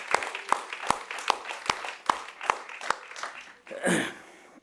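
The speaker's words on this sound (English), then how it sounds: "Can we have a big round of applause for our Honorable Prime Minister?" An audience claps in a steady unison rhythm for Prime Minister Narendra Modi at a cultural forum's inauguration ceremony in France, about a dozen evenly spaced sharp claps, then a brief burst of louder mixed crowd noise.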